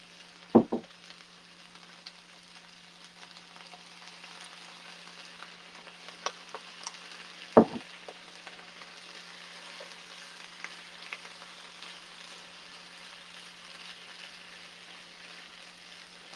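Steady, fairly quiet sizzle of food frying in a pan after soy sauce and rice vinegar are added, with two sharp clanks of a utensil against the pan partway through.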